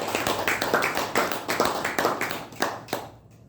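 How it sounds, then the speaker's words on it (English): Small audience at a Toastmasters club meeting claps for a speaker, a modest group of distinct hand claps in quick uneven rhythm, close and clear, fading out near the end. "let's give him a big round of applause"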